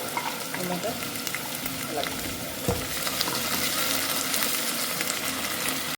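Ginger-garlic paste, a small piece of ginger and a clove of garlic finely ground, frying in a pan for a prawn rice dish, a steady crackling sizzle with one soft clink partway through.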